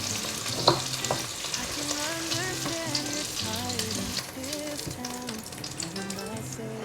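Tofu pan-fries in hot oil until browned, a busy continuous sizzle and crackle with occasional stirring, heard beneath light background music.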